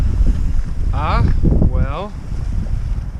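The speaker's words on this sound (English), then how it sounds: "Make it quick, it's windy" Gusty outdoor wind buffets a microphone with low rumbling roar throughout, while a person speaks briefly over it.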